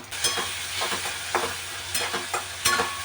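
Tomato dropped into frying onion in a home kitchen pan sizzles steadily, with a run of short scraping stirs and clatters standing out at a moderate level; nobody speaks.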